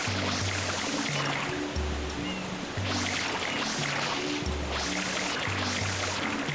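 A waterfall in Super Mario Sunshine gives a steady, loud rushing wash of water throughout, with the game's tonal background music looping underneath.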